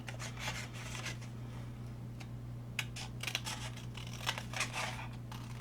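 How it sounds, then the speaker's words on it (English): Cheap Dollar Tree scissors snip through paper for a craft card, with a handful of quick, crisp cuts and rustles sounding close and fairly quiet over a constant low hum. "Let me use these Dollar Tree scissors,"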